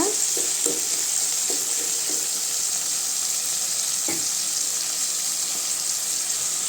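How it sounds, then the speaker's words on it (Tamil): Tomatoes sauté in a pan for mango vathal kuzhambu with a steady, bright sizzle, joined by a few soft scraping stirs near the start and one more partway through. "தக்காளி நல்லா வதங்கட்டுங்க"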